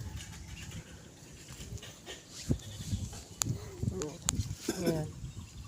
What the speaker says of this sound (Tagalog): Sabi ng kambing. Me.